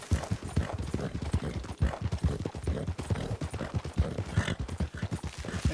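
Horse hooves clip-clopping steadily on the ground at a stable in Tumbleweed in Red Dead Redemption 2, a continuous close rhythmic trot throughout.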